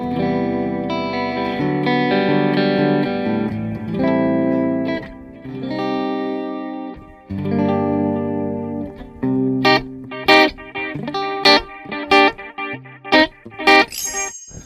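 Electric guitar run through a Line 6 POD Go analog delay with modulation, played as sustained chords and then plucked notes whose warbling repeats trail off after each hit, loud and alone.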